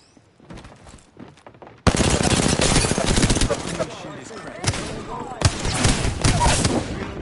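Heavy automatic gunfire from a battle in the shooter game Apex Legends, erupting after a quieter lead-in and roaring on continuously with dense bursts and sharp cracks, loud and close throughout.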